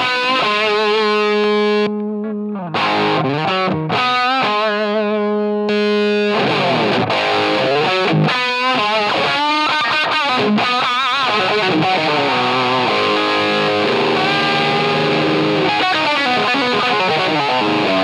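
Electric guitar played through an overdrive pedal, loud and gritty, with sustained chords and riffs ringing out continuously.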